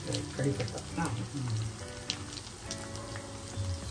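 Tomatoes and curry leaves fry in a pan for a Tamil vatha kuzhambu, making a crackling, patter-like sizzle that runs continuously while a person talks over it.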